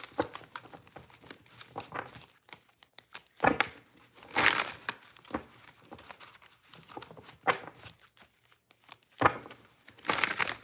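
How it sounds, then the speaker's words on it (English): Tarot cards are shuffled, giving soft papery riffles and crinkling with a few sharper, louder bursts scattered through a quiet, close-up stretch. "We're going to do one more shuffle here, okay?"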